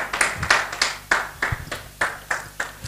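A congregation in a church claps in rhythm, a series of sharp, evenly spaced hand claps about three times per second, fairly loud and close with no talking.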